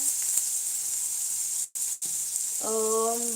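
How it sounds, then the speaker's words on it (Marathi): Sprouted moth beans sauté in a pan with a loud, continuous frying sizzle close by, briefly cut out twice, and then a voice hums or speaks briefly over the hiss at the end. "आता हे छान व्यवस्थित परतून घेऊ"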